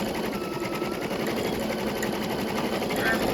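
A Brother NQ3550W embroidery machine stitches a heart in lace, a fast steady mechanical whirring and rapid needle clatter, close and continuous throughout.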